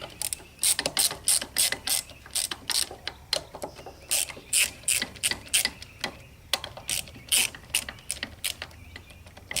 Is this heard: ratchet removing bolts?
yes